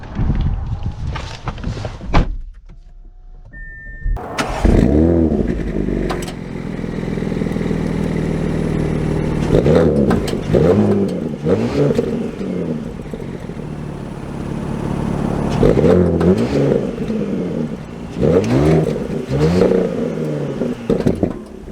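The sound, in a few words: 2023 Audi S6 driving and accelerating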